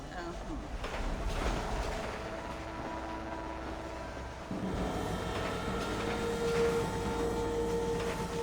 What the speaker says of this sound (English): look at this train's about to go off the tracks